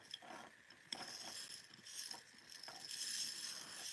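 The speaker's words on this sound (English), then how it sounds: "You spin it and then it threads it for you" A handheld bead spinner whirs steadily as it spins and threads beads, with a continuous rattling, ratcheting rush broken by a few sharp clicks, close and fairly quiet.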